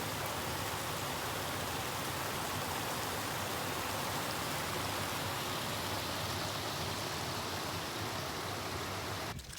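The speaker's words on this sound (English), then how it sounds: "The creek's flowing." A flowing creek makes a steady, dense rushing wash of water, close and continuous with no break throughout.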